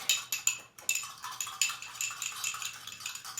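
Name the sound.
stirring a liquid in a bowl with a fork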